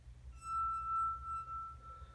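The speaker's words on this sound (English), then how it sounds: "if you drag your finger enough, you can make a very low-pitched sound, even with an unclean glass" A finger rubbed around the rim of a glass rings out a sustained, pure high-pitched tone that holds steady for over a second before fading, faint and alone.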